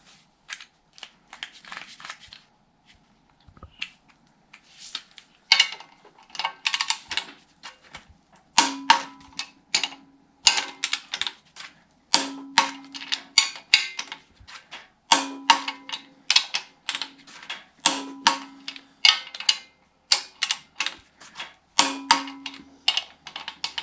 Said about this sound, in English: And I torque them in a crisscross pattern